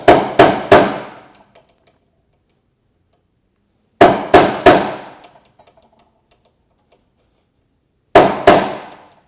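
A wooden mallet strikes a chisel while punching a mortise into a Greene & Greene style table leg. Three sharp, ringing blows come in quick succession, followed by a pause, and the pattern repeats three times. The sound is close and loud, with no talking.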